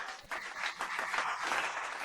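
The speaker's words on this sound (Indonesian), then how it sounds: "Teman-teman tepuk tangan" A short burst of applause from an audience at an event, steady dense clapping lasting about two seconds with no speech over it.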